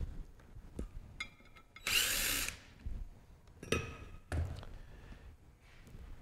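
Screws being removed from a manual pump with a power driver, a couple of short whirring bursts and scattered clicks and knocks of handling close by, with no talking.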